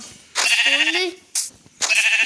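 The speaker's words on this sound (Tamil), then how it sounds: "ஆடு" A goat gives a loud, close, wavering bleat, followed by two shorter bleats after brief pauses.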